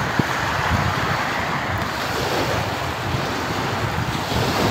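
Ocean waves and strong wind at sea off Buenavista, Agusan del Norte, a steady loud wash of surf with wind buffeting the microphone throughout, no voices.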